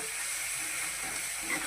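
Spinach being sautéed with garam masala in a pan, a steady soft sizzle and hiss that holds at an even level with no voices.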